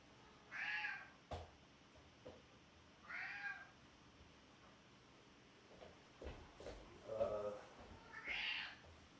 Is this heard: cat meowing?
yes